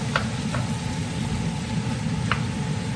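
Onions cook in a hot pan for a maple bacon onion jam, giving a steady, even sizzle with a few faint clicks over it, close and continuous.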